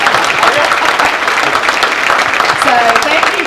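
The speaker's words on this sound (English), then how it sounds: "I want y'all to give Clint another round of applause." Loud, dense crowd applause fills the whole moment, close and continuous, with voices cheering and talking beneath the clapping.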